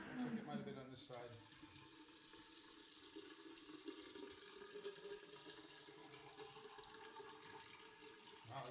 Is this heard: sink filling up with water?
yes